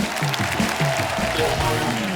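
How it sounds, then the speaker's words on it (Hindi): Studio audience applause for a film writer on a Hindi comedy talk show, a steady broadband wash of clapping with talk and music-like tones underneath. "पहले तो इस बात के लिए ताली होनी चाहिए इनके लिए"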